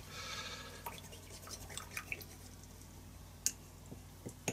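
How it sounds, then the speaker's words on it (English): A paint brush is rinsed in a pot of water, producing faint, scattered drips, taps and small splashes against a quiet background. "So I can also wash the brush."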